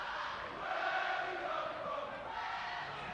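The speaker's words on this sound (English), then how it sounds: "Great noise from the crowd too" Crowd at a schools under-18 rugby cup semi-final, Oundle versus Bromsgrove, roars steadily and loudly throughout, a dense sustained cheer with no distinct voices breaking through.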